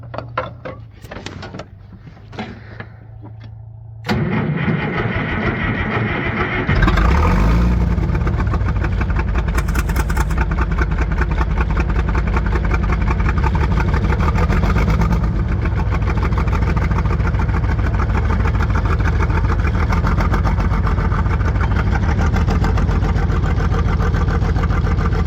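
An old farm tractor engine cranks briefly, catches and settles into a loud, steady, rumbling idle that continues unbroken, heard up close with no talking.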